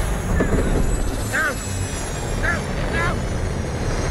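Airplane engine drone from the Batman Arkham VR game, a steady roar throughout with voices speaking over it.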